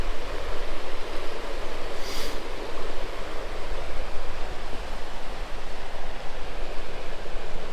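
Water pours over a dam on a forest road in the Adirondacks, a loud, steady rushing roar with no break, heard close by and alone.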